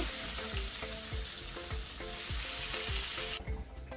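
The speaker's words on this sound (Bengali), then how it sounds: "এভাবে সবগুলো মাছ আমি ভেজে নেব" Chapila fish fry in oil in a pan with a loud, steady close sizzle, punctuated by regular low thuds about every half second, the hiss dropping away abruptly just before the end.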